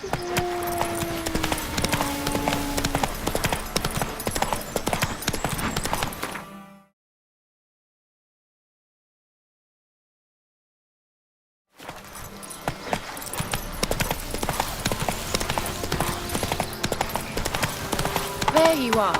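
Roach, the horse in The Witcher 3, clip-clops along under busy game music and effects, with the sound cutting out completely for a few seconds in the middle before resuming.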